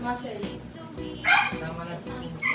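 A dog whimpers and gives short yips and barks in a home, the sounds coming in brief bursts close by while people talk over them.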